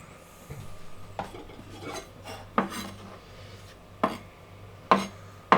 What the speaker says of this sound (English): Just chop it up, put it on a plate.